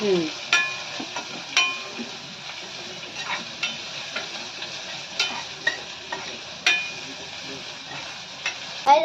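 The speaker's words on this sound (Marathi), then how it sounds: "आपण फर्स्ट आलं लसूण टाकूया आणि आता छान परतून घ्यायचं हलवून घ्यायचं" Ginger and garlic sauté in a pan at home, a constant sizzle broken by regular close scrapes and taps of a stirring spoon every second or so.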